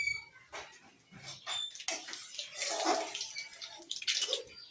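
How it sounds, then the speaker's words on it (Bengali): Nigella seeds (kalo jeere) tempered in hot mustard oil while cooking Bengali shorshe ilish, giving a steady crackling sizzle with sharp spits and pops throughout, moderately loud and close, with no talk. "তেলের মধ্যেই কালো জিরা ফোড়ন দিব"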